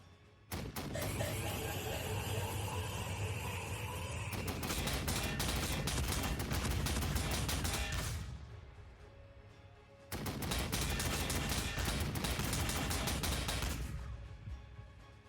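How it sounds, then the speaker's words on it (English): Weapons fire in the Warhammer 40000 Sanctus Reach strategy game, a loud sustained barrage of rapid overlapping shots and blasts that swells, fades around eight seconds, then bursts back in at full volume and tails off. "Firing everything we have."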